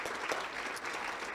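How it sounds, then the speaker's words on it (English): Audience at a lecture on religious freedom applauds steadily for a college president, a dense, even wash of clapping heard faintly and from a distance. "Let's give him a round of applause"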